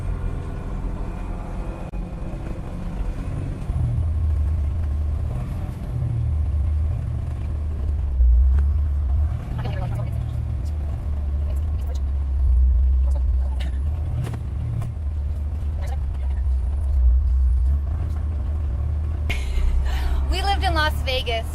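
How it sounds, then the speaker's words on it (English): A vehicle drives along a freshly snow-covered road in Southern Utah, giving a steady, close, low rumble from inside the cab for about twenty seconds. Muffled voices come and go underneath, with a brief clatter near the end. "I love driving in the snow on fresh snow roads."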